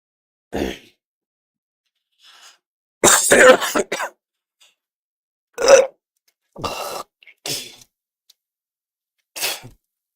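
Several separate coughs and throat-clearing bursts, close and fairly loud, spaced out with short silences between them, during Star Citizen gameplay.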